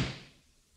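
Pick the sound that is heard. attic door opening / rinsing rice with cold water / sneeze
attic door opening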